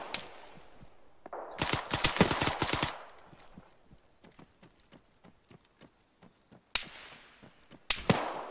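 Gunfire in the video game Arma 3, with dense bursts of rapid automatic shots, a stretch of scattered single cracks in between, then more sharp bursts near the end, loud and close.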